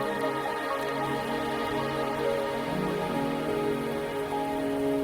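Steady rain falling in a video game, a dense, even hiss of drops on surfaces with a faint tonal background beneath, constant and unbroken throughout.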